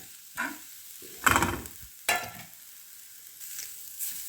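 Grated coconut is stirred into coconut flower thoran in a pan, a few separate scraping and clattering strokes of a spoon over a faint background sizzle, with no talk.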